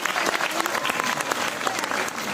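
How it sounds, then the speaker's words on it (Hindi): Loud, dense applause from an audience at a Hindi theatre programme attended by Lieutenant Governor Manoj Sinha, steady and continuous throughout with no break. "जोरदार तालियां इनके लिए एक बार हो जाए"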